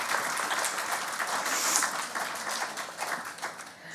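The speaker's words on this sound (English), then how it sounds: "Another round of applause for our fantastic musicians." An audience at a Sunday church service applauds the musicians, a dense, steady round of clapping that tapers slightly toward the end.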